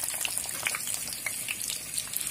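Singara (samosas) taken frozen from the freezer and deep-fried in hot oil, giving a steady fine sizzle with scattered small pops and crackles, close and fairly quiet, no talk.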